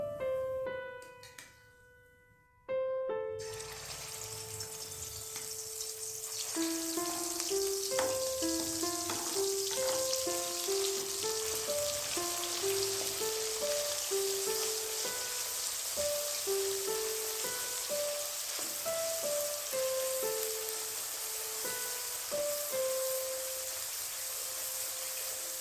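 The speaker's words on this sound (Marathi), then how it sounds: "आता आपण त्यामध्ये मसाला टाकणार आहे." Masala hits hot oil in a kadhai while making Bhogi bhaji, erupting in a loud, steady sizzle and crackle after a brief quiet opening, with soft background music playing beneath.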